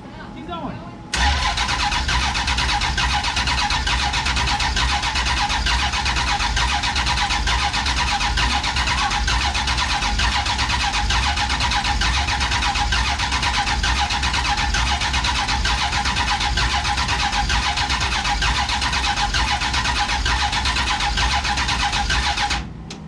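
A big block Duster engine cranks over on its first start-up, a loud continuous mechanical churn that runs steadily for over twenty seconds and stops abruptly at the end, with voices speaking over it.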